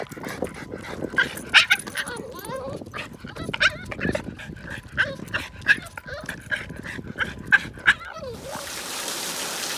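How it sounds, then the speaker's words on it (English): A female dog makes strange alien-like barks, a long run of rapid yips, whines and whimpering cries close up, repeated in quick irregular bursts, with faint speech in the background and a sudden hiss at the end. "so you have to hear Monica, what her bark sounds like, which is not really a bark"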